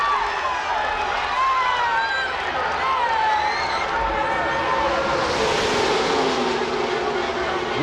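Roaring crowd of 170,000 at a Talladega NASCAR race, a dense wash of cheering under loud race car engine whine that sweeps past, with a commentator talking over it throughout.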